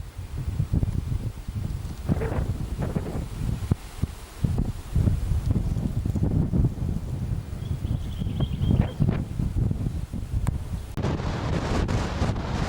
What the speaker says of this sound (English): Suddenly got very windy.